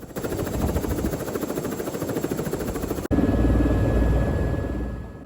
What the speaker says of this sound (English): here's us going on the helicopter ride, which was another add-on